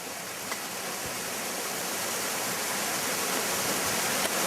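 Meltwater running off a glacier on Aconcagua, a steady broadband rushing hiss like a small cascade, constant and close with no talking.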